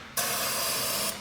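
A single sustained hiss of starting fluid sprayed into the engine intake of a 2005 Chevy Cobalt, about one second long, close and loud.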